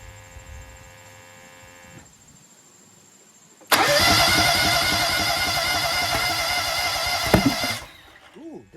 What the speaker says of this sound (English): Let's give it a few cranks after I satisfy the interlock system.